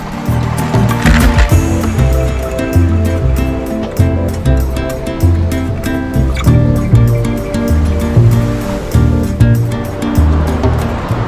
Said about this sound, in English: So here it is, the famous Ipanema beach